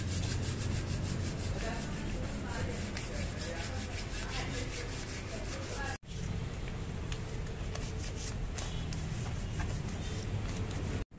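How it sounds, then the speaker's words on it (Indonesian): Steady, rhythmic rasping of sandpaper rubbed back and forth on a metal towing bar before painting, close and continuous, with a brief break midway. "Sebelum dicat kita amplas dulu"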